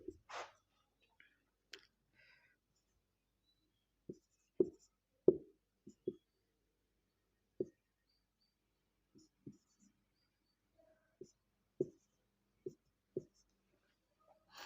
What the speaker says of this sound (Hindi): एक पॉलिनोमियल मैं और लिखता हूँ।